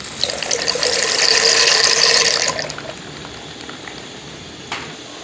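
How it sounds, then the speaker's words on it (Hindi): Dry shell macaroni pours into a pot of boiling water on a stove, making a rattling, hissing rush that lasts a few seconds and then stops, followed by a quiet simmer and one brief knock. "अब हम इसमें मकरूनी डालेंगे।"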